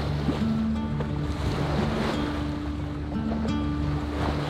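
Southern Ocean swells rush and surge steadily around a small sailboat off the coast of South Africa, with continuous loud wash and wind noise over a low hum.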